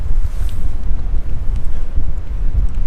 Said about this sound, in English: the wind is just ripping now. And we got like 20-mile-an-hour winds all of a sudden